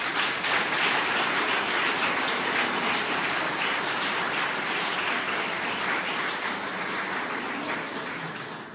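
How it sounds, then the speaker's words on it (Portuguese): A church congregation at an evening worship service applauds loudly and continuously, a broad, hissing wall of clapping that holds steady for nearly nine seconds and eases slightly at the end, with no talking. "Aplauda forte ao Senhor nessa noite."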